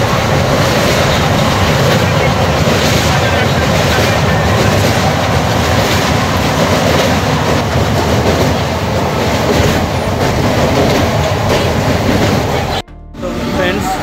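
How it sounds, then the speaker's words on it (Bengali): A Haldia local train runs steadily on its rails at a station, a loud continuous rumble and clatter filling the scene before cutting off abruptly near the end. "এই দেখো আমাদের ট্রেন চলে যাচ্ছে হলদিয়া লোকাল ছেড়ে"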